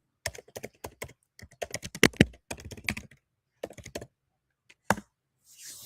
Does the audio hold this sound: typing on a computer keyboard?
yes